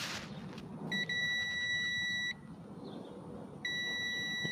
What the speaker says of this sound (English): So when I touch, these two should make a buzzing sound.